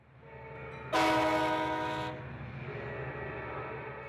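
Commuter train rolling past with a loud sustained horn blast lasting about a second, then the rumble of the passing cars continuing beneath.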